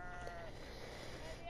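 Sheep bleating inside the Beyond: Two Souls video game, a wavering, nasal cry that runs steadily through the short span over faint game ambience.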